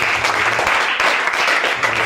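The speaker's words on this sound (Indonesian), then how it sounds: "Tepuk tangan, jangan tanggung-tanggung." A church congregation applauds loudly and steadily, a dense wash of clapping hands that fills the room without a break.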